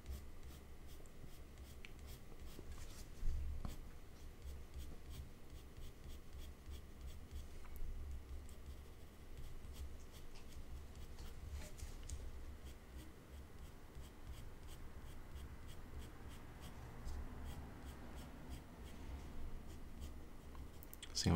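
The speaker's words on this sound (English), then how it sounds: "So I'm going to try to do as much as I can with a pencil." Graphite pencil drawing an Australian Shepherd dog portrait on paper, a steady, soft scratching and stroking that continues for the whole stretch, close and fairly quiet with no talk.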